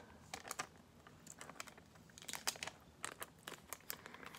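A foil yoghurt pot lid is folded by hand, giving faint, close crinkles and soft crunches in short irregular bursts.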